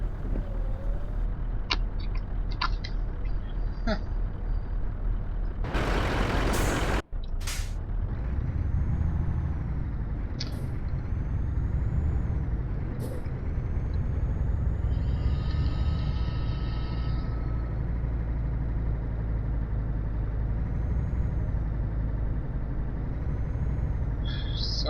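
A heavy truck driving in Euro Truck Simulator 2, with a steady low engine rumble throughout, a loud air-brake hiss burst early on, and a few short clicks and chimes from the cab.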